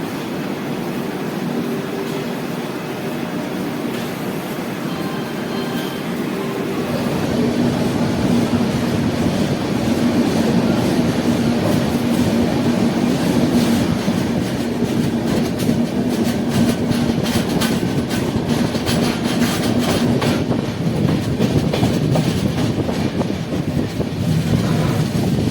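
A Humsafar Express train rumbles steadily along the tracks, a continuous loud roar with rhythmic clatter building slightly and holding through the whole stretch.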